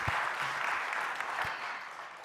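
A church congregation at a Friday worship service in Busan claps in welcome for a deaconess, a steady wash of applause lasting about two seconds with a couple of low thumps mixed in.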